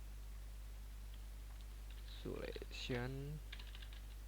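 Sparse, faint keystrokes on a computer keyboard as commands are entered, with a few soft clicks scattered around a short spoken word over a steady low hum.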